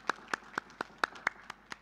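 At a university graduation ceremony, an audience claps in a sparse, evenly spaced rhythm of about eight distinct claps, faint and somewhat distant.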